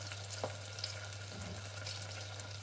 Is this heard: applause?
no